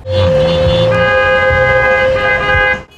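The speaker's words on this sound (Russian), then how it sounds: "Трансляцию под всеобщий гул клаксонов возобновили" Car horns honking from a celebrating crowd of fans at night in the city of Barnaul, several overlapping blaring tones held loud and steady for a few seconds, with engine rumble underneath.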